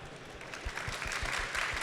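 An audience at a London geospatial AI conference applauds award winners, with a brief burst of scattered, moderately loud clapping and no voices.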